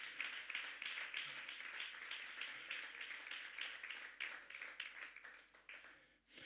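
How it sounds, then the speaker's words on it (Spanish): Church congregation clapping along in a steady rhythmic beat, a dense patter of many hands held at a moderate level throughout with no break. "Denle un aplauso al Señor en esta hora."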